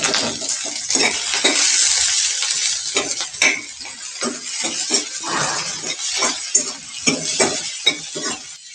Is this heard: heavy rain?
no